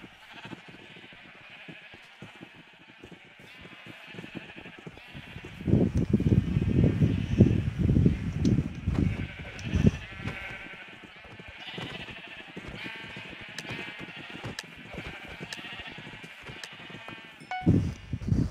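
Sheep bleating inside a video game, several wavering bleats clustered in the middle and again near the end over quiet rustling background, moderately close, no talk.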